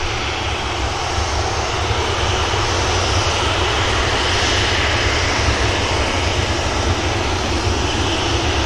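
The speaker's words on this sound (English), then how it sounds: "Ryanair rolls out." A Ryanair jet airliner rolls out on the runway after touchdown at Manchester Airport, its engines giving a loud, steady broadband roar that holds without a break and with no voices over it.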